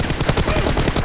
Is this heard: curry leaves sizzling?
no